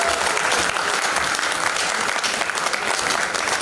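Audience applause at a Bengali stage comedy performance, a dense, steady clapping from a full crowd that stays loud and even for the whole few seconds, with no voices standing out.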